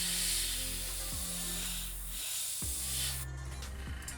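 Airbrush spraying paint onto a shad fishing lure, a soft continuous airy hiss with brief pauses and a low hum beneath, close and quiet.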